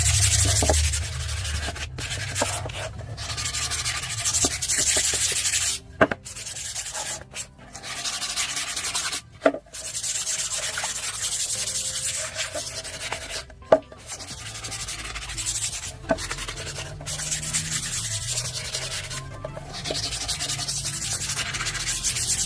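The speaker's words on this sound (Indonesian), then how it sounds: "Kemudian kita amplas untuk membersihkan sisa-sisa pada bagian potongannya supaya lebih rapi" Steady sanding along the cut edges of basket pieces, rough back-and-forth rubbing strokes that continue without break, with only short pauses between passes and no talk.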